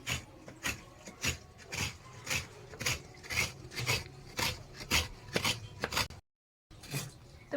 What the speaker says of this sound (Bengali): এখন নারকেল নারকেলটা কুড়িয়ে নিচ্ছি